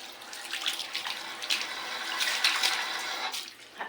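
Tap water running into a bathroom sink after rinsing, a steady close splash and trickle with small bursts, fairly soft, and no talking over it.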